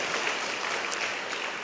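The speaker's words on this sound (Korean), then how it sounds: "박수." A congregation at a pastor's sermon breaks into brief, steady applause, a continuous wash of clapping from a large room with no lull.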